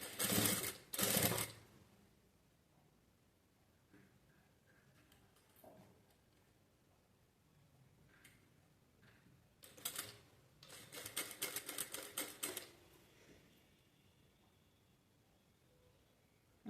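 A sewing machine stitches piping onto a blouse in two short bursts of rapid mechanical clatter, with quiet handling and faint rustling between them.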